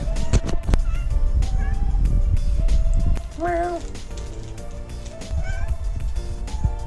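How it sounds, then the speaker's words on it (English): A cat meows several times, with one drawn-out, rising-and-falling call in the middle, inside a camper van being fitted with sound deadener. Loud, steady background sound runs throughout. "Cat wants to talk."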